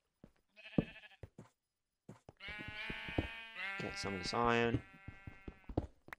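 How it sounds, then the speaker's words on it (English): Sheep in a survival video game give a few loud, wavering bleats in the middle of the clip, with a player speaking briefly before them. "Noisy sheep."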